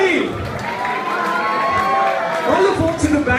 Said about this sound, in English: Now you can make noise and applaud and clap and scream and shout and shake your head